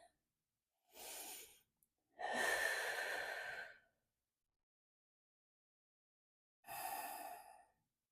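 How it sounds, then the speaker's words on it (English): Three separate breaths taken while holding a forward fold in a vinyasa yoga flow: a short exhale, a longer, deeper sighing breath, then a pause before a final breath. Each is close, soft and breathy, with silence between and no speech. "take a few breaths in this pose"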